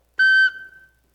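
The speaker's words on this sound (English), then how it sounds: "this is what's called a soprano recorder. And it, of course, has a whistle." A soprano recorder gives one clear, sustained whistle tone lasting about a third of a second. A pure high note then fades away into silence.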